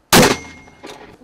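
A single sharp, loud firing blast from a 60 mm mortar, then a short ringing decay and a fainter echoing thump, close by and alone.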